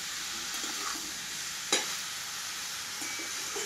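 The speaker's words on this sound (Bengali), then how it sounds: "1 মিনিট আমি ভাজবো, বেশি না 1 মিনিট।" Spices sizzle steadily in hot oil in a pan for mutton curry, with soft scraping from stirring and one sharp clink of the spoon against the pan.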